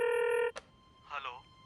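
A telephone ring tone sounds as a phone call connects: a steady electronic tone cuts off with a click, then a brief voice follows.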